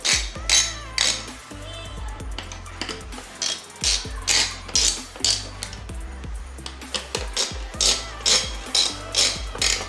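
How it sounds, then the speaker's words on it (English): Screws driven into a PC during assembly, giving rapid ratcheting clicks from a screwdriver in repeated short bursts with brief pauses between, close and loud. "While screwing in, we have to screw in diagonally, because we have to apply the force in equally on all sides."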